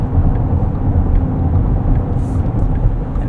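Inside a 2024 Porsche Cayenne E-Hybrid in Sport Plus mode on an entrance ramp, steady low road and engine rumble fills the cabin as the SUV takes a corner, with no talking.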